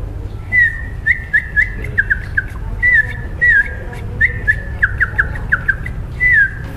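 A person whistles in imitation of a small bird's song, a close, clear run of short chirps and upward-swooping notes in quick bursts separated by brief pauses, with no other voices.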